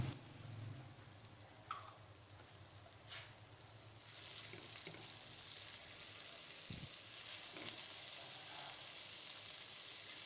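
Ginger garlic paste sautés in butter in a pan with a faint, steady sizzle and a few light stirring clinks.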